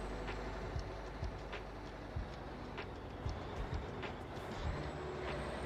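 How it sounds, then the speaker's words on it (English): A train in the video game American Truck Simulator rolls past at a steady pace, low rumbling with rhythmic clicking and clacking of wheels on rails, fairly faint and continuous. "There's a train."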